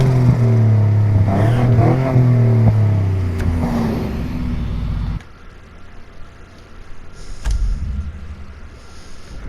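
A race car engine in Need for Speed Heat revs loudly with rising, harmonic-rich pitch for several seconds, then abruptly cuts to a quieter, lower rumble with occasional sharp clicks and no talking.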